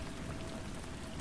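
Steady rain falls without a break, a dense, even hiss of drops with no voices or other sounds over it.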